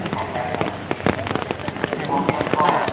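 Rain falls steadily on a surface at a temple during a live outdoor broadcast, a dense patter with scattered louder drops throughout, while someone talks over it.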